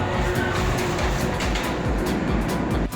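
Poltergeist roller coaster train at Six Flags Fiesta Texas, heard from the front row as a steady, loud rumble and rattle of rolling wagons, continuous and close throughout without a break.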